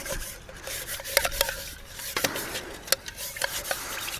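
A scouring pad scrubs a camping cooking pot, giving steady raspy rubbing strokes with sharper scraping accents and light metallic clinks, close and fairly loud with no talk.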